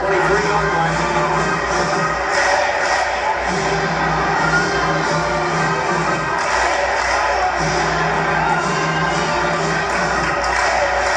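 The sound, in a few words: Florida Gators crowd chanting the Gator Bait chant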